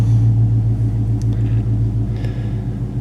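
A car engine runs at a steady, loud, close idle just after starting, a deep continuous rumble with faint clicks and small noises on top.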